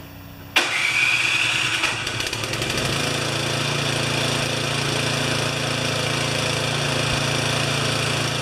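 A Craftsman 24-inch snowblower engine cranks with a sudden whir, catches and sputters, then settles into a loud, steady mid-pitched idle close by.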